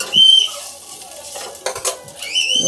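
A wheat roti is turned over on a hot pan: a few close metallic clinks and scrapes of utensil against pan, with quiet gaps and a faint sizzle.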